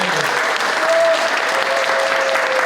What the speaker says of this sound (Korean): 우리 두 분을 박수 한번 크게 한번 부탁드리겠습니다